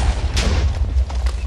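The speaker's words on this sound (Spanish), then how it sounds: "que te van a dar las explosiones" Explosions go off in Minecraft, a run of deep booming blasts with rumbling low end, several bursts in quick succession close and loud, with no talk over them.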